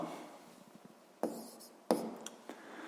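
Pen scratching on paper in a quiet room, soft scribbling strokes with two sharper taps of the pen, close and faint, with no talk over it.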